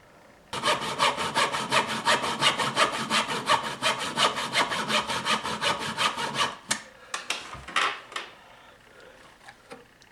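Rapid rhythmic hand sawing through wood and a wood screw, close and loud, runs steadily for several seconds, then breaks into a few scattered scraping strokes and knocks.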